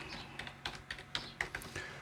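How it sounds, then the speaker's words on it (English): An IP address being typed on a computer keyboard: a quick, irregular run of close key taps and clicks lasting about two seconds, with no voice. "type in the IP address into the top"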